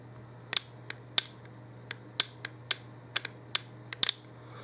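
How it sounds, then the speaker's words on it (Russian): A Renault canister purge valve, powered from a 12 V bench supply, gives a series of about a dozen sharp, irregularly spaced clicks over a faint steady hum, close and alone. "Происходит щелчок."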